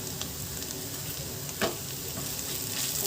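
Turmeric, chilli powder, coriander powder and salt are stirred together in a hot pan, a soft steady sizzle under occasional scraping from the stirring, with one brief louder scrape near the middle.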